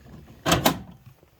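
A drawer of a Snap-on full-bank tool cart slides and clunks, two short metallic bursts in quick succession, close and fairly loud against a quiet room.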